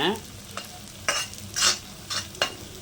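Chilies and seeds sautéing in a pan while making chicken chintamani, a spatula stirring and scraping in short bursts over a faint steady sizzle, close up with no talk.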